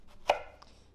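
A single crisp knife chop through hearty lettuce on a cutting board, one sharp close cut followed by a fainter second tap in a quiet kitchen.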